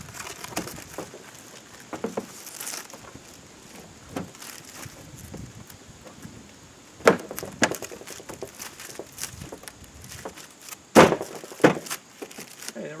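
Plastic clicks, scrapes and knocks come from a headlight assembly being lined up and pushed into place on a 2003 Ford Expedition, with two sharper pops standing out amid scattered handling noise.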